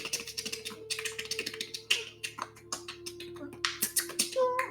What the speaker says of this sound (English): you can also hear what sounds like typewriters, or small mechanisms or gears